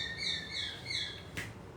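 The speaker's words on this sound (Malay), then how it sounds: "Bunyi burung." Birds chirp in a short series of high, thin tweets, fairly faint and set against low background noise, with a brief rustling burst near the end.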